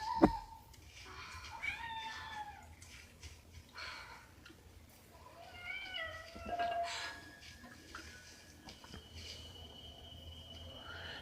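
A cat meows several times from a horror movie scene, the plaintive calls spread across the stretch over a quiet, faintly buzzing background with no one talking.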